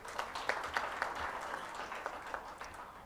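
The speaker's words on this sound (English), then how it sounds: "A round of applause" An audience at the Forum on Internet Freedom in Africa applauds a parliamentarian introduced on stage. Soft, fairly distant applause with a few sharper claps rises and holds steady.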